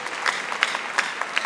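An indoor audience claps together at a church memorial gathering, giving a short burst of moderately loud, lively applause that stays steady.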